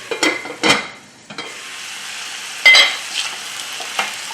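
Zucchini frying and sizzling in a pan on a home stovetop, stirred with a utensil in a few short scraping bursts over a steady soft sizzle, with someone speaking briefly.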